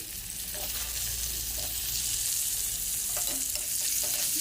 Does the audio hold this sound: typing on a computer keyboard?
no